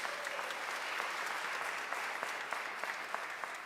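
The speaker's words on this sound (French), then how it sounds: "On l'applaudit." Congregation applauding during a church service at a parish Mass, a steady wash of clapping from many hands filling the room, fairly distant and even throughout.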